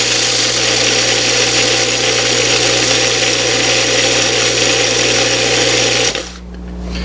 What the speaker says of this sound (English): So to speed things up, we're going to use this food processor.